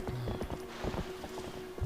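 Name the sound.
horse galloping over Bulblins in Zelda: Twilight Princess video game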